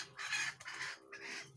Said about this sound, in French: il y a les poules qui se courent derrière